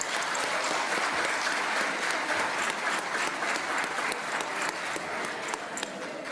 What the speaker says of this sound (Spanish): Un abrazo y un aplauso grande